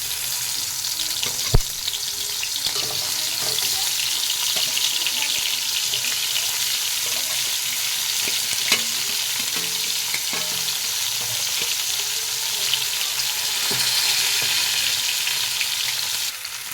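A fish head frying in hot oil in a kadai wok, with a continuous steady sizzle and occasional sharp crackles and pops, close and alone without talk.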